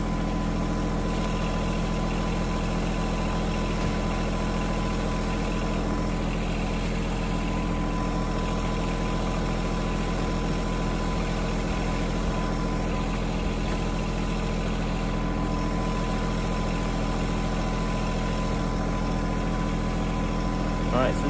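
A John Deere 1023E/1025R compact tractor engine holds a steady full-throttle drone with a constant low hum, loud and unchanging throughout while lifting a weighted load on the three-point hitch.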